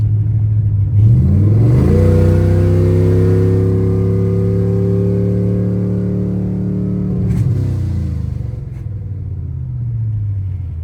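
Junkyard-built budget F-body car revving up hard in first gear, a loud, close engine rising in pitch over a couple of seconds, holding high for several seconds, then dropping off and settling back down.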